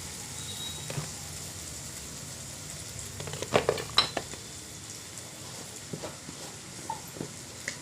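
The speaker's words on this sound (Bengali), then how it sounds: "পেঁয়াজ আদা রসুন টমেটো কাঁচা লঙ্কা দিয়ে মশলাটা পুরো কষানো হয়ে গিয়েছে।" Spice paste of onion, ginger, garlic, tomato and green chili frying in a pan for ghugni, with a steady soft sizzle and a few clustered scraping stirs mid-clip, close and moderately quiet, no talking.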